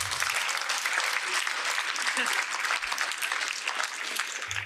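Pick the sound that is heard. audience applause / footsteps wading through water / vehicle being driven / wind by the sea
audience applause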